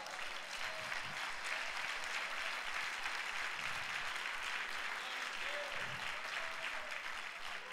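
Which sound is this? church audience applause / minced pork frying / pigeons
church audience applause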